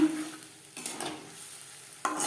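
Whole cumin seeds sizzle in hot oil in a pan, a soft crackling hiss with a couple of brief stirring scrapes, close and fairly quiet.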